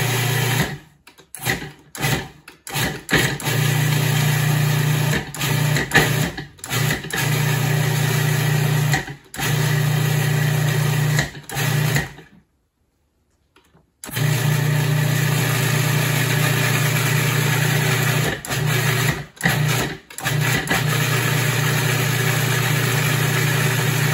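A food processor blends pesto with a loud, steady motor whine and a constant low hum, broken by brief pulses early and late and one short full stop near the middle.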